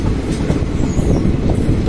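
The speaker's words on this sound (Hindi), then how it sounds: "सामने से WDG 4 आ रहा है" A WDG 4 diesel locomotive hauling a goods train passes on a bridge, heard as a continuous loud rumble with rolling wheel noise and faint metallic squeals, no talk.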